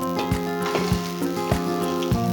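Onion dropped into about a cup of hot oil in a cooking pot, making a steady sizzle with soft periodic stirring thumps, close and fairly loud, no talking.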